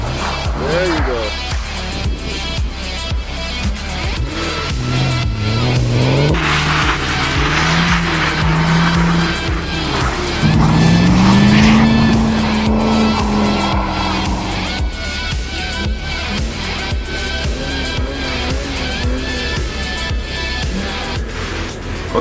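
Car drifting on snow in a winter drifting session, with engine revving and rising and falling tire squeal through most of the stretch, loud and close, while voices talk over it at times.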